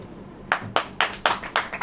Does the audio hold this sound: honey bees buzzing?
no